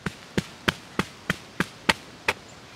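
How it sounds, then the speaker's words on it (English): A hammer striking a metal ground cover fabric staple into the ground, eight sharp evenly spaced taps at a steady rhythm, close and fairly quiet, with no talking. "You have to keep hammering on it to get it down in there."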